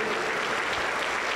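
Members of a Pentecostal church congregation clap in a dense, even burst of applause for just over a second, loud and close, with no voices standing out.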